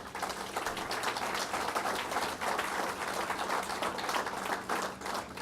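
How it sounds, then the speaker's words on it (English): Applause from the audience at a government press event announcing completed Superstorm Sandy recovery work in Montauk, dense sustained clapping filling the whole stretch at a steady level. "So give yourselves a pat on the back and a round of applause."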